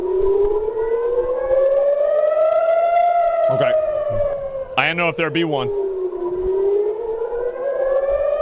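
Civil defense siren wailing loudly and continuously, its pitch rising and falling in a slow sweep over several seconds, while a person speaks briefly over it.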